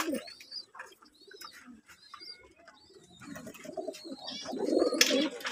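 Domestic pigeons coo nearby in soft, repeated throaty rolls, several birds overlapping, with faint chirps and a louder flutter of wings toward the end.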